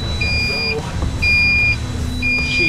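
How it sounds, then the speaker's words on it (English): Repeated electronic beeping of a high-temperature alarm from an overheating electric boat motor on a rough river, three long steady tones with short gaps, heard over steady motor and water rumble. "High temperature alarm."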